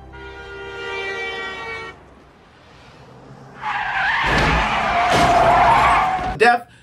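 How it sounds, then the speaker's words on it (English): Tires screech loudly in a movie scene where a man is struck by two cars, a long skid rising after a quieter tonal passage and ending in a brief thump. "He gets hit by 2 cars."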